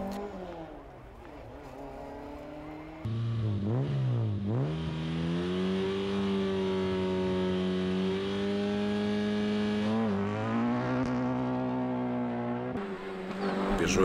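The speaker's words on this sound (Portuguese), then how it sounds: "Ele está ao volante deste Ford Escort MK1" Ford Escort MK1 RS 2000 rally car on a super special stage in Lisbon, its engine loud and near, revving through gear changes with rising and falling pitch sweeps across the run.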